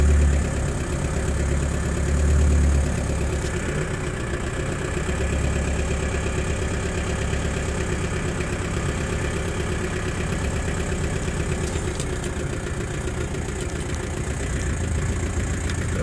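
A Rastrojero truck engine idles to warm up from cold, a steady low rumble with a faint knocking pulse that holds evenly throughout, close and unbroken, with no voices.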